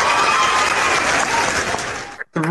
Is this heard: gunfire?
no